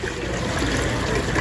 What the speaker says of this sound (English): we're pouring in the water